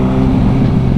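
Motorcycle engine held on the throttle while riding through a canyon, a loud, continuous droning roar that holds steady, with no talk.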